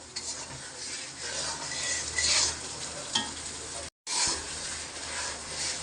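Katla fish kalia masala fries in oil in a pan, sizzling steadily as a spoon stirs and scrapes through it close by, with a brief silent gap before the frying resumes.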